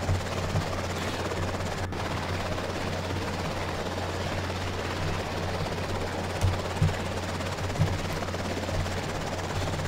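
An NYPD Air Sea Rescue helicopter flying in the video game EmergeNYC, with a steady loud rotor drone throughout and a few faint thumps.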